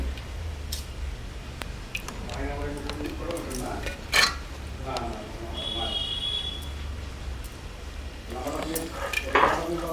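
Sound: putting chicken into a cooking pot (handi) and adding oil

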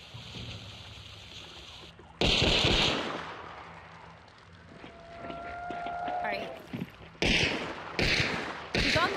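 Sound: explosions in the video game Hunt: Showdown 1896

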